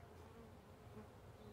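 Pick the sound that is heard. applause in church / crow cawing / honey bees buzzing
honey bees buzzing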